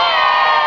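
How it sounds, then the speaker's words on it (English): Game show audience cheering loudly, a brief burst of crowd whoops and shouts lasting under a second. "the audience is going to decide who the winner is by cheering like so"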